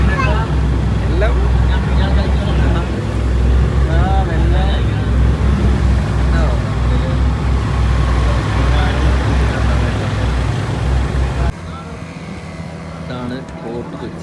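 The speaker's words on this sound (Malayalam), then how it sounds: "ഇതാണ് ബോട്ട് കൊച്ചി." A boat ride on the water at Kochi carries a loud, steady low engine rumble and water noise under near-constant chatter from passengers. The engine drone drops away abruptly near the end.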